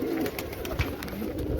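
Racing pigeons coo inside a pigeon loft, low soft murmuring calls repeating steadily through the clip amid faint background rustle and noise, with no talk.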